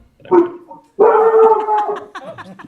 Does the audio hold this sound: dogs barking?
yes